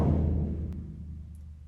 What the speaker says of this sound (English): The lowest notes on the stave with the dots represent the bass drum